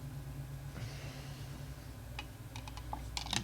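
A pen stirs soap and water in a small container, giving faint scraping followed by a quick run of light clicks and taps near the end, quiet and close.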